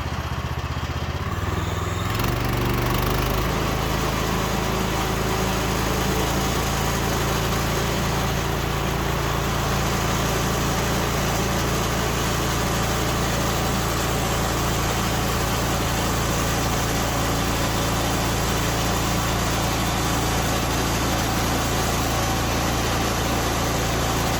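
The engine of a Woodland Mills HM126 sawmill starts and then runs steadily and loudly while flat sawing a log, a continuous close mechanical roar with no pauses and no voices.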